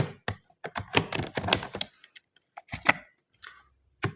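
Keys clack on a computer keyboard in short irregular bursts of typing, close and crisp, with isolated single presses separated by silences toward the end.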